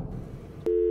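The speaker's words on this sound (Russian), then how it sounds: "Телефон просто где трубку не берут?" A phone line rings unanswered in the Garry's Mod horror game, a sudden steady electronic tone that starts abruptly near the end and holds loud over a low murmur of background noise.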